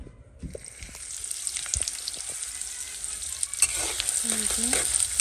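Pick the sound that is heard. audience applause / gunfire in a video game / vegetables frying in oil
vegetables frying in oil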